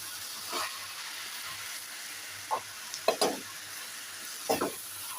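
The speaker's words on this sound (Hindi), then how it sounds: "फुल फ्लेम पे हमने 4 से 5 मिनट तक कुक करना है" Okra (bhindi) and onions fry on full flame with a continuous hiss and sizzle, broken by several louder stirring scrapes and bursts of spatter.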